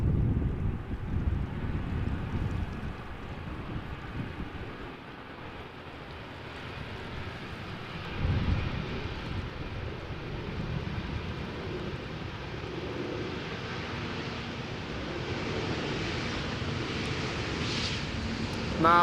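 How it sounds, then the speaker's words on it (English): An Austrian-registered Airbus A320neo touches down at Amsterdam Schiphol in gusty crosswind, its engines giving a steady broadband roar mixed with wind buffeting on the microphone, the noise rising toward the end. "This is an A320neo arriving from Bristol, touching down after 57 minutes of flight."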